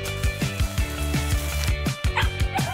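A cartoon puppy barks and yips in quick repeated bursts over a steady musical backing, lively and close, in an animated Digital Circus-themed craft scene with a pup getting balloon boots.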